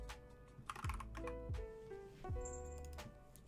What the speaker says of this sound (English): Great typing.